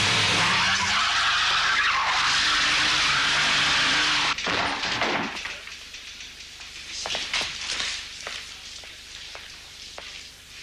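Car tires squeal and skid hard while burning rubber, a loud sustained screech for about four seconds that cuts off abruptly, followed by quieter engine and clattering sounds.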